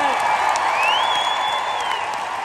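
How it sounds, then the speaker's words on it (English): A concert crowd at an outdoor stadium show claps and cheers for the band, a broad, sustained roar of applause with a high whistle or whoop rising over it, fading slightly toward the end. "Give a warm round of applause for my band"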